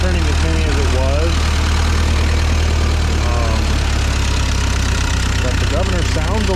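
A Ford 9N tractor engine running steadily with a newly installed governor, a loud low continuous drone up close, while a person talks over it at moments.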